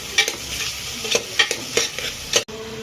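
Onions frying in a pan for vegetable pulao, with a steady sizzle broken by several sharp scrapes and stirs of a spoon at close range, no voices.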